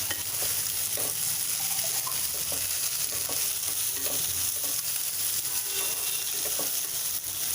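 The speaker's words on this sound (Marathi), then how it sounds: "हे आधी आलं लसूण पेस्ट आणि हिरवी मिरची लसूण ठेचा छान मिक्स करून घ्यायचा आहे।" Ginger garlic paste and crushed green chili with garlic stirred in a hot pan, a constant loud sizzle of oil with soft scraping strokes of the spatula throughout, close by and without voices.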